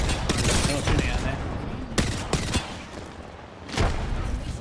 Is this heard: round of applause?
no